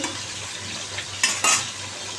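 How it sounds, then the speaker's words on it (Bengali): Rohu fish sizzles steadily in hot oil in a pan, with a couple of sharper spatters and a utensil stirring near the end. "এখন আমি রুই মাছ বসিয়েছি ভাজা"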